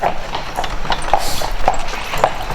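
Horse hooves clip-clop steadily on pavement in Old Quebec, about two strikes per second, fairly close, over constant street noise.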